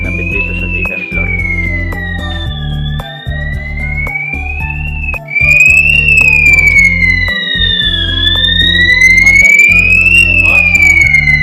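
A newly installed smoke detector fire alarm sounds during testing, a loud wailing siren tone sweeping up and down over a pulsing low buzz, growing louder halfway through.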